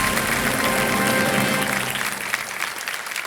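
A studio audience on a TV quiz show claps steadily in a dense, loud round of applause that gradually thins out toward the end.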